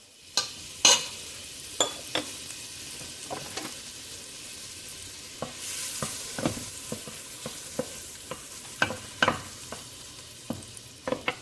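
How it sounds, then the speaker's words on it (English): Butter melting in a hot pan on the stove, a faint steady sizzle broken by scattered sharp clicks and taps of a utensil against the pan, close and without talk. "So we're going to add that to the pan."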